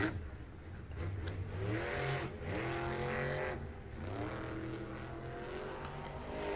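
A monster truck's engine roars and revs inside the Monster Jam Tampa 2025 stadium, its loud pitch climbing and falling in continuous surges over a wash of crowd noise.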